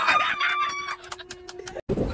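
A rooster crows loudly and close by, with chickens clucking around it, followed by a short break and a burst of noise.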